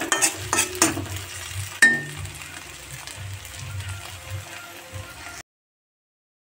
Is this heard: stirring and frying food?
yes